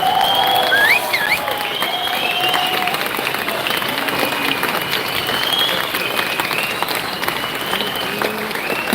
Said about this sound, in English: Please give her a massive round of applause.